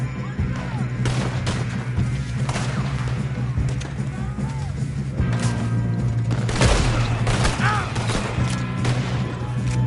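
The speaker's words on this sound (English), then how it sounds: "Come on, clean this up, boys. Good shooting, kid." Gunfire rings out in a Red Dead Redemption 2 train shootout: repeated loud shots and booming reports over a constant low rumble, with scattered voices in the mix.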